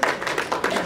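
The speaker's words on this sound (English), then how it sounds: "I want everyone to give a round of applause to my team for their hard work and their efforts." An audience claps at a movie promotion event, producing a brief patter of hand claps that comes in a few uneven bursts.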